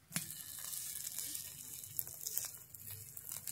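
A semolina and vegetable breakfast sizzles in an oil-filled pan as it fries, a steady soft crackle with occasional sharper pops and light utensil touches, close and quiet, with no voices.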